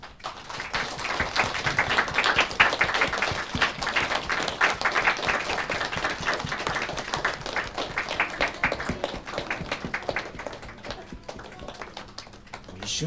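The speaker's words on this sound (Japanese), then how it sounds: "皆さん拍手をお願いいたします" A studio audience on a variety show claps to welcome a psychic, a sustained patter of many hands that swells early and then slowly thins toward the end.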